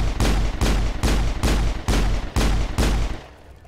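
Six heavy, evenly spaced gunshots from phasic rounds in Mass Effect, each a loud booming blast roughly half a second apart, ending in a fading tail with no talking.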